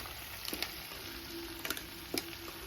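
Crab frying in oil with a spice masala, a steady close sizzle with a few brief stirring scrapes and no voices.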